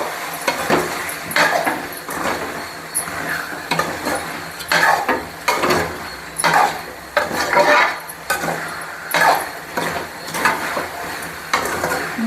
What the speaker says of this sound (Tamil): நாம் இந்த ஸ்டேஜில் நான் கட் பண்ண கத்திரிக்காய் சேர்த்துக்க போகிறேன்.